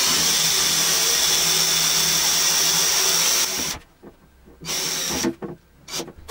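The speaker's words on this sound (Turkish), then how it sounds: "Hiç makine kullanmadan köşe nasıl çıkartırım matkapla." A power drill whines loudly and continuously while drilling wood, then stops and starts in short bursts with quiet gaps between.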